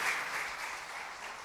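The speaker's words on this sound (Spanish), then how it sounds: "Le da ese aplauso al Señor." Church congregation applauding during a Spanish-language Sunday sermon, a dense wash of clapping heard briefly at moderate distance with no voices over it.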